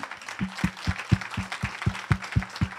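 A congregation at worship claps in a steady, regular rhythm, about ten sharp unison claps spaced evenly and heard fairly close.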